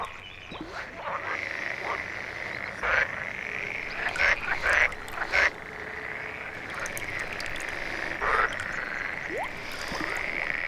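Several frogs croak in loud overlapping bursts over a steady background chorus in an alpine wetland, rival males calling during territorial disputes, with some sharp calls standing out close by.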